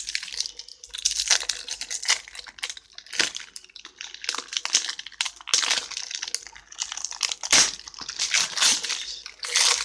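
Cardboard and plastic wrap from a Dirt Rally game box rustle and crinkle up close as it is torn open, with irregular crunchy bursts and sharp snaps continuing throughout.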